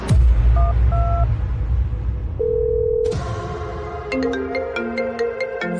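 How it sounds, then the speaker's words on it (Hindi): An electronic phone ringtone plays loudly, a melodic chiming tune with steady tones and bright repeating beeps, no voices. "विपिन का फोन लगा"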